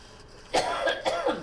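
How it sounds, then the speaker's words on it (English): A couple of quick, rough coughs in a row, close and moderately loud, with a throaty rasp. "excuse me, I will cough again"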